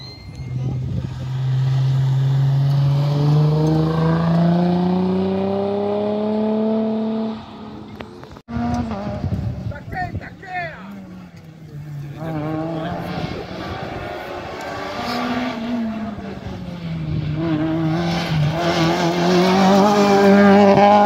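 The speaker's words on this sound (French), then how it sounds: "Le bruit qu'elle fait la voiture." Rally car roaring past at speed on a hot day, engine note rising and falling with a sharp dip mid-pass, loud and close, with crowd talk in the background.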